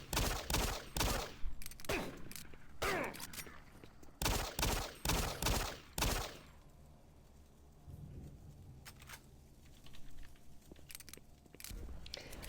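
Shotgun fire in the video game Doom 3 comes as clusters of sharp, loud blasts in quick succession for about six seconds. Quieter, muffled game ambience and scattered thuds follow.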